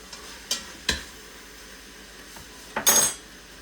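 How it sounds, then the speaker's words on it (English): Meat sautéing in a pan is stirred with a utensil, giving a few sharp clinks and scrapes against the pan over a faint, steady sizzle, with a louder clatter near the end. "it's sauteing up nice in there"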